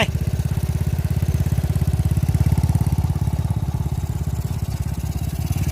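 A motorcycle running a size-53 piston on a road test ride, its engine thrumming in a fast, even pulse at close range, loud and steady, no talk over it.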